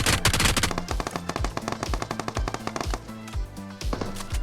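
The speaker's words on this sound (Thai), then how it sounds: "นี่ ยิงได้รัวมากๆนะครับแล้วก็ค่อนข้างที่จะนิ่งเลย" Rapid automatic gunfire from a new gun in PUBG Mobile's 1.9 update: loud, dense bursts of shots in quick succession that run nearly without pause throughout.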